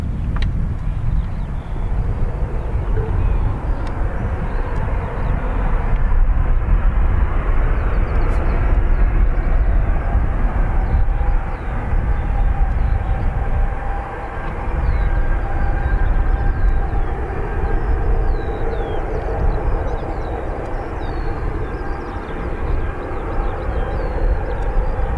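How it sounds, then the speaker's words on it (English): An airliner taxiing on the ground at Dublin Airport's north runway area, a steady broad rumble with a faint whine that swells and eases slightly over time, heard at a distance with no talk. "I can just see the tail of it taxiing behind the trees"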